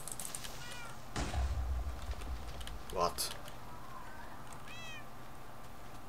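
Cat meowing in the Minecraft video game, a few short meows heard faintly amid gameplay sounds and keyboard typing, with a brief spoken word.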